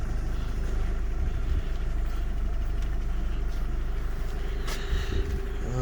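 A Mitsubishi Eclipse engine idles steadily at close range, a constant low rumble with no talking over it.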